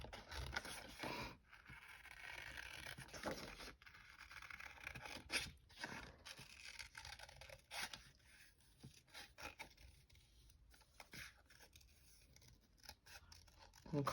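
Scissors snipping through patterned paper to fussy-cut a small bear shape for a Christmas card, quiet close blade clicks and paper rustles in short irregular bursts with pauses between.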